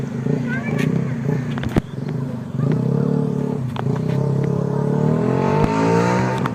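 A motorcycle engine revs and idles unevenly in floodwater on a flooded road in Iriga, a steady droning roar with voices talking over it.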